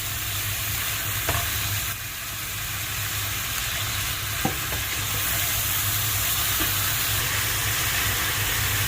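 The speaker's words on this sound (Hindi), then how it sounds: "इसके साथ जो मैंने मसाला पीस के रखा होता है वो थोड़ा थोड़ा डालता जाऊँगा, ये टमाटर और प्याज, और इसको भूनता जाऊँगा" Chicken fries with a ground tomato and onion masala in a pan, a loud, continuous close sizzle and hiss, broken by a few spoon taps as it is stirred.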